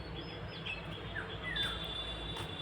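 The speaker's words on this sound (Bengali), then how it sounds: "পাখি ডাকছে।" Scattered small bird chirps and a few thin whistled calls over a steady low rural hum on a foggy, chilly winter morning in a quiet village near a banana grove, with no talking.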